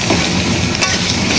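Taro pieces dropped into a pan of frying vegetable curry with papaya and potato, giving a loud, dense, continuous sizzle with a brief stirring scrape midway.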